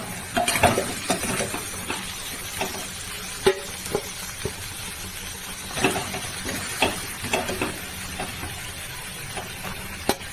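Country chicken curry being sautéed in a pan, with a steady sizzle under repeated scraping stirs and occasional metallic clinks of the utensil against the pan, close and alone without talk.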